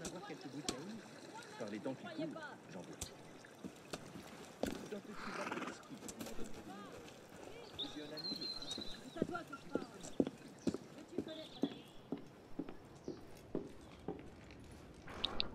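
A horse-drawn carriage in the Assassin's Creed Unity video game rolls along with steady clip-clopping hooves and an occasional whinny amid busy street ambience, while someone talks over it.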